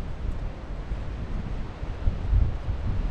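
Wind gusts across a lakeside nature area at Bard Lake in Thousand Oaks, California, roaring steadily and buffeting the microphone, with a stronger gust near the end and no speech.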